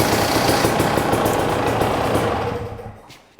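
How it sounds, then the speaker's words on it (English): Husqvarna TE300i motorcycle engine running at idle, a steady close rumble with pulsing low-end vibration that fades and dies away at the end, with no talking. "you will have to hit the starter and it will start and run for a few seconds"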